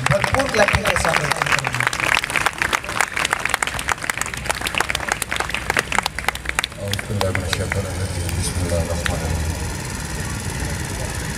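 An audience gives a welcoming round of applause for a guest speaker at a Defence Day celebration held by a national yoga federation, dense, steady clapping over a rumbling background that thins out toward the end.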